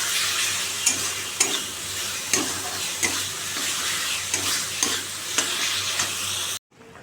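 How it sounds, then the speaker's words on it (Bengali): Water is added to a fried spice paste for a katla fish curry and stirred, with a steady sizzle broken by regular scraping spoon strokes against the pan, close by, before the sound cuts off abruptly. "এবার জল দিয়ে দেবো"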